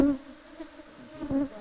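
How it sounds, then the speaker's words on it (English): Honey bees buzzing around an open hive frame of honey and brood, a close, wavering drone with individual bees flaring louder as they fly past. "You can see clearly that the bees are working very serious."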